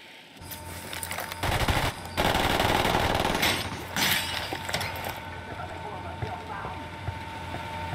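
Gunfire in the video game Ghost Recon Wildlands, bursts of automatic fire with crackling impacts rising and fading over a few seconds, fairly distant and mid-level.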